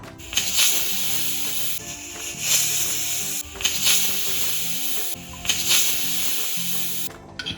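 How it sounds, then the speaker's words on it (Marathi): Pressure cooker full of jeera rice on a gas flame, releasing repeated loud bursts of hissing steam with whistle-like tones, about four surges close by over a steady hiss and low rumble, with no talking. "आता मी याला 4 शिट्या करून घेणार आहे"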